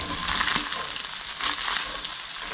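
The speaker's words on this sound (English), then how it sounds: "just dumping in the onion and garlic mixture" An onion and garlic mixture fries in a pan with bacon, a dense, continuous sizzle heard close up that swells slightly in waves, with no voices.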